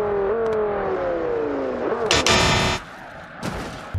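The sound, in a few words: Audi car brake test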